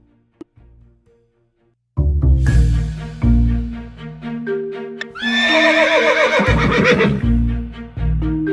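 A cartoon horse in an animated Hindi magical story lets out loud, drawn-out whinnies and neighs amid clip-clopping hooves and musical effects, the main neigh rising shrilly in the middle.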